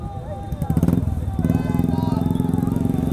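Motorcycles and scooters rumble steadily on a group ride of 150+ bikes in Patna, their engine drone close and continuous under excited talking and shouting.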